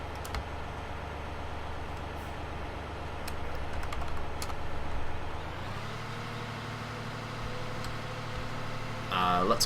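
Vehicle engine and exhaust in Farming Simulator 2015 drone steadily from inside the cab, then rev upward in pitch and hold higher, with keyboard-like clicking scattered over the hum.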